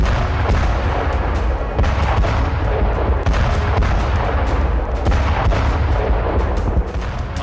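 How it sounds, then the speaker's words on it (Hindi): Heavy artillery shelling rumbles continuously, with deep booms and sharp reports overlapping in a dense, loud barrage. "आर्टिलरी से गोलाबारी हो रही।"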